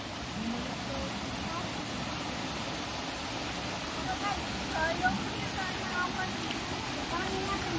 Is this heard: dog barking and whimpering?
no